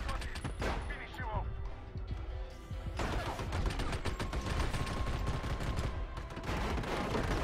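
Rapid gunfire from the video game Army of Two, with dense bursts of loud shots and crashing impacts that continue almost without pause through the whole stretch.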